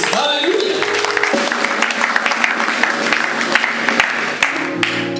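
Church congregation claps and cheers loudly in praise of Jesus Christ, with dense sustained applause and voices over sustained keyboard or organ chords throughout.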